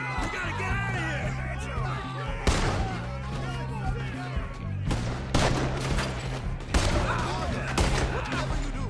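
Gunfire in Red Dead Redemption 2: several loud, sharp shots ring out at irregular intervals, mixed with game voices shouting and a low musical background.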